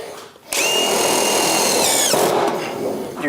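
Close, loud power drill running continuously, its pitch dipping slightly as it bites into material during a chimney installation.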